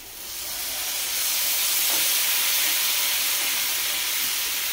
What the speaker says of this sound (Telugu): దీంట్లో కొద్ది వాటర్ పోసుకుందాం